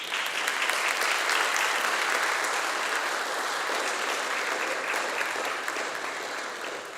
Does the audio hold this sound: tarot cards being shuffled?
no